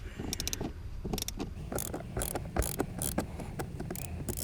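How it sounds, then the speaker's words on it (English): Screwdriver working loose plastic trim screws inside a Mercedes C-Class cabin, a close run of small clicking ratchet-like ticks and light plastic rattles in an uneven rhythm. "a plastic trim right here, and you can go ahead and unscrew those pieces"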